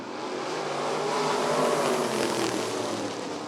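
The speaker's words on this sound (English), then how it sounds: "Green flag, and we're racing." A pack of race cars roaring off the green flag at the start of a bracket heat at Rockford Speedway, a dense, sustained engine drone that swells slightly and holds steady at a distance.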